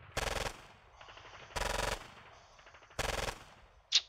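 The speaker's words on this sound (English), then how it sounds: "This machine gun here." Three evenly spaced bursts of machine gun fire ring out in the wargame Squad Battles: Red Victory at Ponyri, each rattling for about half a second, with a sharp click at the end.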